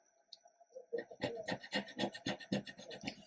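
Scratch-off cards are scraped in a quick series of short rasping strokes, close and fairly faint, following a brief quiet start.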